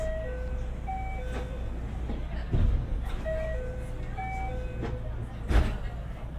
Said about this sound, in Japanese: 発車メロディーが鳴って間もなく発車します。